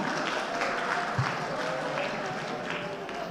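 An auditorium audience breaks into steady, moderately loud applause that runs the whole stretch, with murmuring voices under the clapping.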